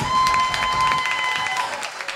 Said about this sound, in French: Est-ce qu'on peut applaudir très fort pour le Kémique?